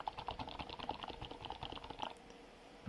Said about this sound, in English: Like even if you try to type hard,